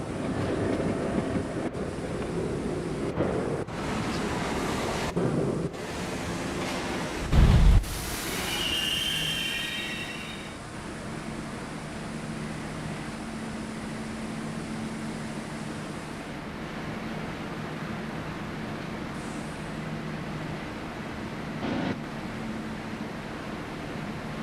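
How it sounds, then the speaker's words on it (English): Subway train running on a Riverdale-bound 1 line near 199th Street, from the Customia Railroad game: a steady low rumble with wind-like hiss, some brief clatter and a sharp burst early on, continuing evenly throughout. "This is a Riverdale bound 1 train."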